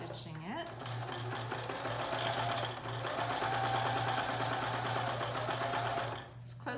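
Sewing machine running steadily as it top stitches along the edge of a cloth mask with a filter pocket, a close continuous mechanical whir with a steady hum, starting and stopping briefly at the ends.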